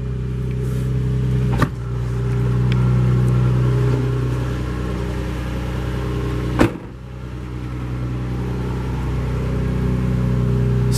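A 2006 Nissan 350Z Roadster with stock exhaust idles close by and is revved twice, each rev a short sharp rise over a steady, droning idle.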